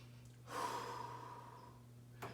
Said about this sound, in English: And breathing as you stretch.